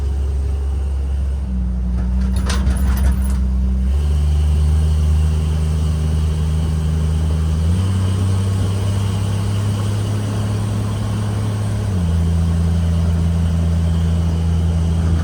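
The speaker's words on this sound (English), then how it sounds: "It's not the strongest motor ever, but it's definitely running a lot better." A Jeep engine runs steadily close by in a garage setting, a low droning rumble that shifts pitch in a few distinct steps as the revs change, with a brief rattling burst early on.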